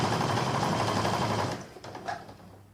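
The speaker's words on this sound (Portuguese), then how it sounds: "Então agora eu vou passar uma costura reta, normal, só na beirinha da manta." A sewing machine runs a straight seam along the edge of a quilted fabric piece, a fast steady whirring stitch for about a second and a half, then stops, followed by a few faint clicks and handling sounds.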